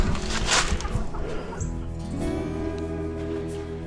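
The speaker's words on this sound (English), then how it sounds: "Chickens are satisfied." Backyard chickens clucking and chirping close by before a trip to town, a dense, busy cluster of calls that fades slightly as a steady hum continues underneath.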